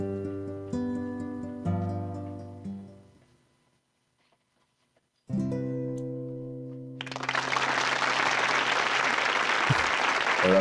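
A few sustained musical chords fade into silence, then resume, and a burst of crowd applause breaks out and continues loudly to the end.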